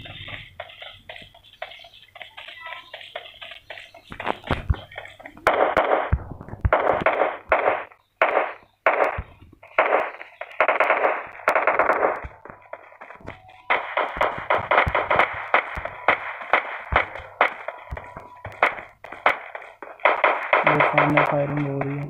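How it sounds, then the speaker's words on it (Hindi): Gunfire in the mobile battle game PUBG Mobile crackles in rapid bursts and longer sustained volleys, loud and close, separated by brief gaps, with a faint voice now and then. "फायरिंग हो रही"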